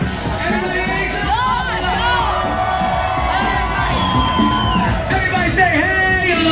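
A dense crowd at a New Orleans street show screams, whoops and cheers continuously as a performer flies, with loud shouts and yells layered throughout and voices calling out over the roar.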